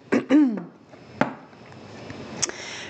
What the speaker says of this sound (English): Forgive me for all of that coughing.